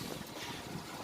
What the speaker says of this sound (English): it's quite windy out here today